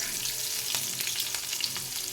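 Green chillies and nigella seeds sizzle and crackle in hot oil, a steady close frying hiss with occasional sharp pops and stirring.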